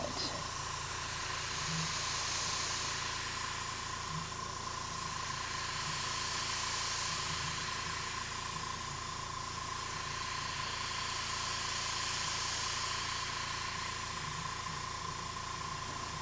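An airbrush sprays paint over ink while rendering an illustration of a '56 Chevy, giving a continuous, even, close-up hiss with a faint steady hum beneath it for the whole stretch.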